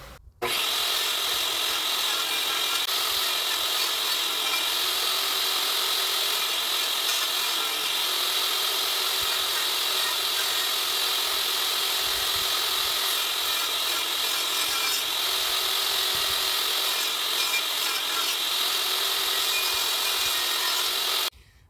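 A table saw runs steadily for about twenty seconds, cutting a half lap into a wooden board for a chicken coop, with a continuous loud whine and a dense, even grind of blade through wood from start to finish.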